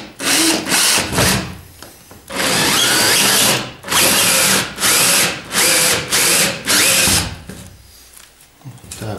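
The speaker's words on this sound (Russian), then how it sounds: "Выставляю обычно первую скорость для начального сверления" An electric drill on low first speed bores into drywall with a large-diameter bit for an electrical box, loud and close in repeated whirring bursts of varying length, separated by brief pauses.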